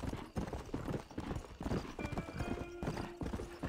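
Galloping horse hooves pound in a continuous rhythm during a long ride in the Red Dead Redemption video game, close and steady, with a sustained musical tone from the game rising partway through.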